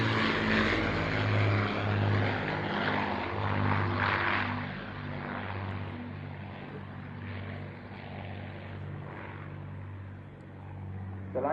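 Avro Lancaster bomber at an airshow, its four propeller engines producing a loud, steady droning roar with a deep harmonic hum that stays continuous throughout, easing slightly in the latter half.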